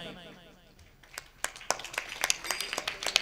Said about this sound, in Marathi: एवढ्या हळू टाळ्या आल्यात,